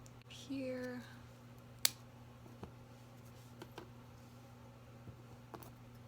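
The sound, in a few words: cutting Echeveria and Crassula succulents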